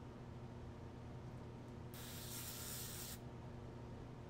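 A paint spray gun spraying Black 2.0 acrylic paint, which has been thinned and is coming out chunky: a single steady hiss lasting about a second over a low, constant background hum, with no talking.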